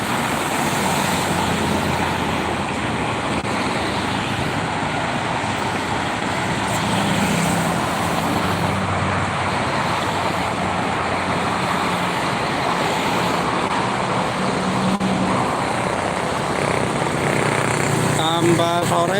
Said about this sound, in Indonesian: Banyak bis sama mobil pribadi